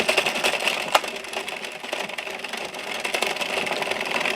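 A knitting machine carriage is pushed back and forth across the needle bed working waste yarn, making a continuous close mechanical whirring rattle with small clicks, steady and fairly loud.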